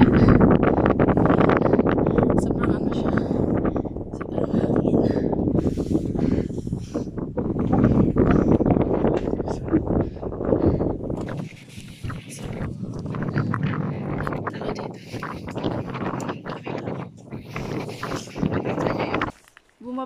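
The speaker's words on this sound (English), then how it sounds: "ang sobrang windy niya" Gusty wind on a hilltop buffets the microphone with a steady low roar throughout, while people talk at intervals beneath it.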